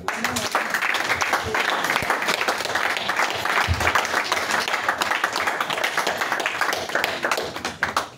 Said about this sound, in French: Sur ces paroles, acclame le Seigneur.